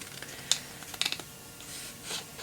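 Scissors snip paper bird printables with a few quiet, crisp clicks, one at first and then a quick cluster, faint and close, without voices.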